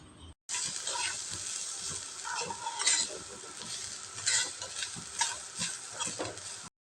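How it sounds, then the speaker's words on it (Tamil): Semolina and grated coconut dry-roasting in a pan for a moong dal sweet, with steady close scraping and stirring strokes of a spoon running continuously, no voices. "இப்போ இந்த தேங்காயையும் ரவையும் வந்து நல்லா வறுத்து எடுத்துக்கலாம்"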